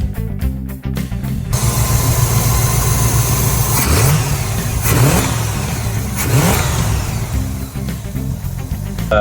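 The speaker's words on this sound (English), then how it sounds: "We're having an issue where it's still choking out at idle" A Corvette V8 with a carburetor fault runs loud and close, revving up in several swells before sagging back toward a rough, stumbling idle.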